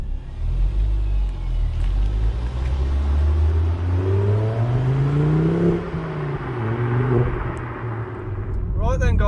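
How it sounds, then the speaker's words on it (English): A Ford Focus ST Mk2 on a test drive, its engine note rising and falling through gear changes as it accelerates, heard close from inside the car with a continuous road rumble. "now obviously it's time to go out and test drive the car"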